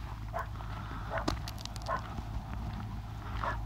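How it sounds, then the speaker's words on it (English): A dog barks at night at a campground in the Amistad Recreation Area near Del Rio, Texas, with several separate barks spaced a second or so apart that sound moderately distant over a low, steady background hum. "listening to a barking dog."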